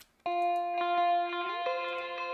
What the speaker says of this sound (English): And I started by buying a guitar sample that sounds like this.